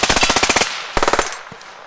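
AR rifle fitted with a Digitrigger Gen 2 binary trigger firing a rapid burst of around ten shots, a short pause, then a second quick string of shots that tapers off, loud and close with no talking.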